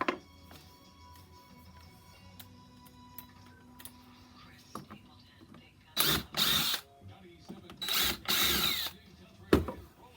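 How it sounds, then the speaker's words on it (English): Short whirring bursts of a power drill pre-drilling into wood for a tree shelf, a few seconds apart, after a quieter stretch of faint workshop noise. "I'm going to pre-drill with this one"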